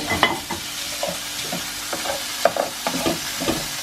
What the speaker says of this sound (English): So our bacon has been frying for 3 to 4 minutes.